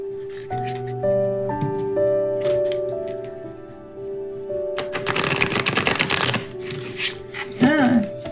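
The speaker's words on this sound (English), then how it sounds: "that shuffles really nicely" A tarot deck being riffle-shuffled by hand, a dense burst of rapid papery flutters lasting a couple of seconds. It comes after a stretch of soft background music and is followed by a brief squeak and faint rustles.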